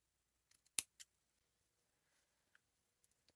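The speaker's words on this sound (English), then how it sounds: "we're going to trim off our ends here" Scissors trimming the fabric ends of a handmade headband: a few quiet, sharp snips close by with soft faint ticks and taps scattered around them, otherwise near silence.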